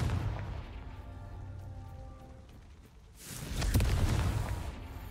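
In the game Hogwarts Legacy, a Confringo spell erupts in a loud, booming explosion that follows a low, droning game soundscape and then rumbles away.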